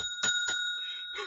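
A bright bell sound effect rings out with two sharp strikes close together, each leaving a sustained shimmering tone that lingers before a softer final ring.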